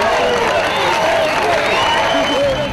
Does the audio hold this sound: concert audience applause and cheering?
yes